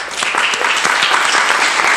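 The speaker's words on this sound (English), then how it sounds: "give a big round of applause" Steady applause from a crowd, dense clapping that fills the whole stretch at an even, fairly loud level.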